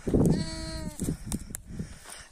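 A brown sheep on a farm with lambs gives a loud, close, wavering bleat, followed by softer knocks and shuffling with no talk.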